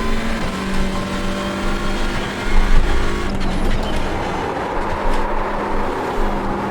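Hyundai Elantra race car lapping Oulton Park in the iRacing sim, its engine droning and revving steadily with shifting pitch and a rough, grinding edge, no voices.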